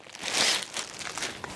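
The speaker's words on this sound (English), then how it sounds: "remove the cover from the plastic bag" Plastic bag crinkles and rustles as an ironing board cover for a Laurastar S Pure is unwrapped, a close, uneven series of crackly rustles with one louder swell early on.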